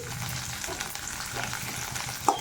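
Green chilies frying in a pan for a ridge gourd chutney, a brief close sizzle and crackle with one sharp utensil tap near the end, no voices.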